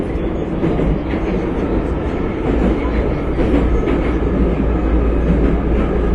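Metro train running underground, a steady loud rumble with low drone and rail clatter filling the whole stretch, close and continuous with no talk.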